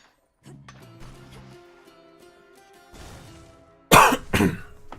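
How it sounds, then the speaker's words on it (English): Coughing from a person while playing Hades 2: two sharp, close coughs come near the end, after a quiet stretch of faint game sounds. "But still got lingering cough."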